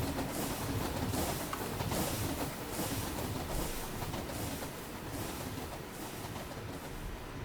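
An LNER tender steam train runs along track in Minecraft with the Create mod, giving off a steady, continuous rolling rumble with rhythmic clatter from start to finish. No voices are heard.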